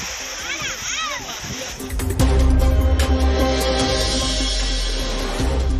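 Floodwater pouring over the main falls at Courtallam in heavy rain, a loud continuous roar and splash that swells after an opening stretch with birdsong and background voices.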